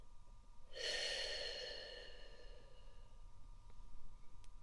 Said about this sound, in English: And breathe in and out.